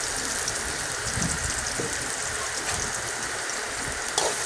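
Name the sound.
chopped onion and chili frying in hot oil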